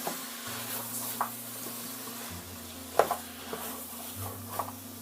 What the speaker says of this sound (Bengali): তারপর আবারও নেড়ে নিচ্ছি এটাকে।